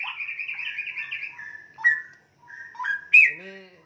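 A caged straw-headed bulbul sings loud, clear whistled phrases, with a warbling run followed by several sharp rising notes and a final rich, fluting call, alone against silence.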